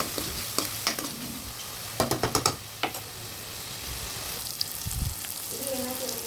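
Salted masala being stirred and fried in a pan while making Yippee noodles, with a soft sizzle underneath and several sharp spoon-on-pan clinks and scrapes in quick bursts, close and fairly quiet.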